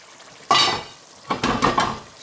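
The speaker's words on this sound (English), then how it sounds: "stew frying beautifully, just like I want it" Chicken stew with tomatoes frying in a pot, with a burst of sizzling and a spoon scraping and stirring, then a second stretch of louder clattering sizzle, close up with no talking.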